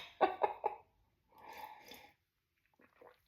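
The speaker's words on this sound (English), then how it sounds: "I've been clearing my throat a lot." Someone clears their throat close up, three quick rough bursts followed by a longer raspy rumble, then a few faint breathy sounds.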